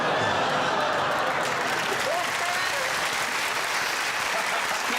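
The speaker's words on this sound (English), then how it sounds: "That's a classic mixture of groan and applause there." A television studio audience applauds steadily for several seconds, the clapping dense and continuous, with a low murmur and groans mixed in.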